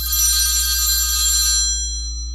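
A telephone rings with a bright electronic bell tone, loud and alone for about two seconds before fading slightly, with a steady low hum underneath.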